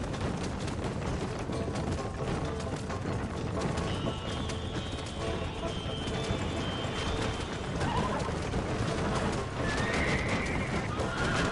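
Horse hooves clatter in a steady galloping rhythm while a horse neighs over the top in the video game Red Dead Redemption, all dense and continuous, with no talking.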